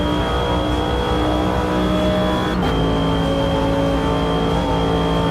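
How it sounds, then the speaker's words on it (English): A race car in Automobilista 2 gives off a steady, piercing high driveline whistle over a loud, continuous engine drone, with a short dip partway through before the whine carries on unchanged. "This car is making a horrible driveline whistling sound."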